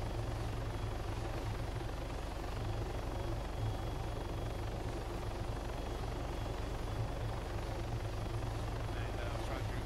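An AH-6 helicopter in a video game sets down on a dusty landing pad, its rotor and engine roaring loud and constant throughout.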